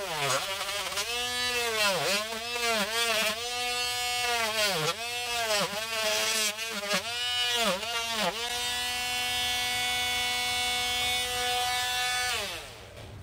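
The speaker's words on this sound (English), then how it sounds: "Straight and clean cuts at the drywall." A Parkside 20V cordless multi-purpose oscillating tool cuts into drywall with a loud, close buzzing whine that wavers in pitch as the blade bites, then holds steady before stopping.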